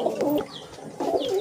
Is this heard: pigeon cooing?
yes